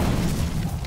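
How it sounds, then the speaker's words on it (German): A deep booming explosion in the video game Batman Arkham City, a sustained low rumble lasting under a second. "Jetzt mal fix explodieren lassen hier."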